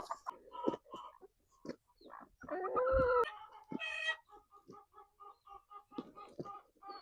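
Chickens cluck in short, repeated bursts, with a louder squawk or crow in the middle, close by and otherwise quiet between calls.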